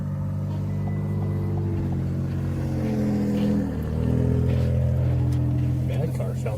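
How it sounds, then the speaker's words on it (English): Rough, uneven engine rumble from a car idling in cold winter weather in southern Minnesota, steady low drone with a brief surge, under people talking nearby. "Man, that car sounds like fucking dog shit."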